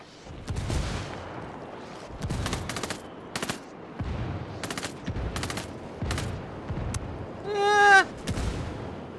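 A mortar pit fires amid gunfire in the video game Ghost Recon: Wildlands, sharp separate blasts and bursts spaced across the scene, with a rising whine near the end.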